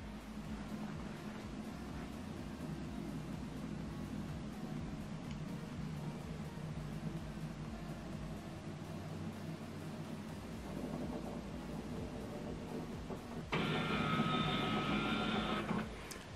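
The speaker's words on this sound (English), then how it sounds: "Close the printer. Then select scan." An HP Envy Inspire 7220e printer scans a document, producing a steady mechanical hum and whir for a long stretch, then a louder tonal motor drone near the end, close and continuous with no voices.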